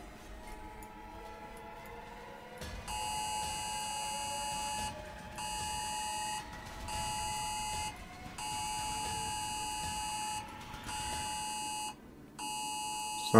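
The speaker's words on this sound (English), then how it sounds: "Sounds like an emergency beacon." Steady electronic beeping like an emergency beacon, a high multi-tone pulse repeating in long bursts with brief gaps, loud over a low rumbling background with faint sweeping tones.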